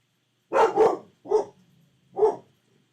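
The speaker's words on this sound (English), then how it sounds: "Doggos." Dogs barking: a quick double bark followed by two more single barks spaced apart, fairly close and clear against near silence.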